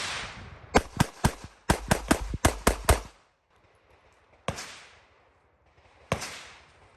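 A Glock 48 pistol fires a rapid string of about eight sharp, loud shots, then falls quiet before two more single shots ring out, each with a short decaying echo.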